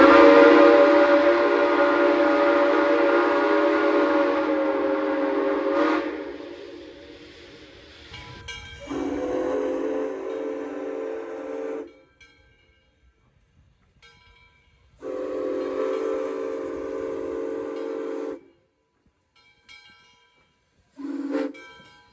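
A Nathan CofG six-chime steam locomotive whistle blown at 190 psi, first in one long rich chord that fades, then in three shorter, separate blasts with silence between them.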